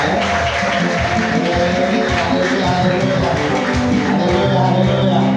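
Applause from a church wedding congregation, a dense steady wash of many hands clapping throughout with music and a few voices mixed in underneath.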